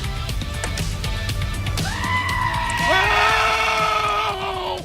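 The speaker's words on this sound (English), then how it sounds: "Oh, you gotta love the screaming goat." A goat's scream, a long wavering bleat that rises sharply partway through and is held for a couple of seconds. It plays loud over a busy, noisy background.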